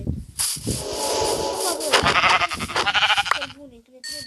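Sheep bleat in a video game, with several close, wavering bleats arriving in quick succession over a few seconds.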